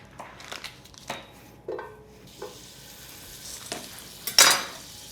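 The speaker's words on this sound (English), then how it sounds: "I'm just gonna have to keep stirring this thing to make sure that they don't burn or cook too long" Onions and jalapeños stirred in butter in a pan, with a low sizzle under several separate scrapes and clinks of a utensil against the pan, the loudest near the end, and no voices.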